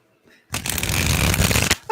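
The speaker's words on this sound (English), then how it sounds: "Just an hour of me shuffling." Tarot cards are shuffled during a live reading, a close, loud riffling burst of about a second that starts and stops abruptly, with a voice briefly heard around it.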